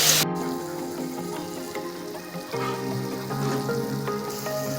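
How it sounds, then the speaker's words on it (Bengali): Ridge gourd fries with spices and a pinch of Kashmiri chili powder, crackling in a continuous close sizzle with occasional stirring scrapes, no voices. "আর দিয়ে দেবো কালারের জন্য একদম সামান্য পরিমাণে কাশ্মীরি লঙ্কার গুঁড়ো যেটা খুব ভালোভাবে মিশিয়ে নেবো মশলাগুলোর সঙ্গে"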